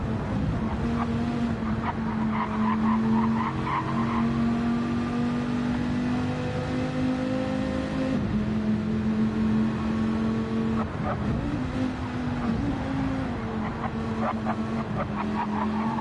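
Gr.4 race cars in Gran Turismo 7 drone steadily throughout, with sustained engine tones that shift pitch as the cars accelerate and change gear, and a few layered cars passing at close range.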